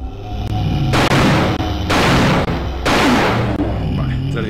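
Shotgun blasts fired at zombies in Alone in the Dark: The New Nightmare, three loud, close booms about a second apart, each with a long decaying tail over a low game ambience.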